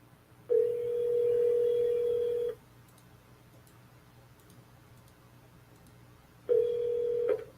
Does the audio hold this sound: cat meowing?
no